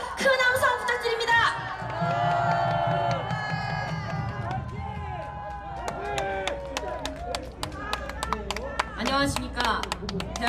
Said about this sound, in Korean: 큰 함성 부탁드립니다